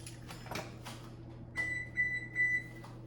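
Kitchen oven signalling it has finished preheating with a series of three electronic beeps, preceded by a few clicks and faint handling noises over a low steady hum.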